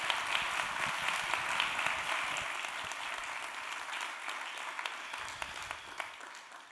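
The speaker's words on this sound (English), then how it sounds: "Let's give Shannon a round of applause" An audience at a leaders summit applauds, a dense, steady round of clapping that holds for several seconds and then slowly thins, heard from within the hall.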